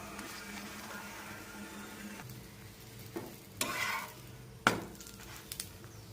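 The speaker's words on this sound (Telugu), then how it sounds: "ఇదిగోండి చపాతీని అయితే పెనం మీద అయితే వేసాను" A chapati cooks on a hot griddle pan in a home kitchen with a faint, steady sizzle. A few sharp clinks and scrapes of utensils break through near the end.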